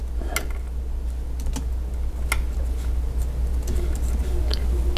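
Irregular keystrokes tapping on an Earto 2.4 GHz wireless backlit computer keyboard, sharp clicks scattered over several seconds above a constant low background hum.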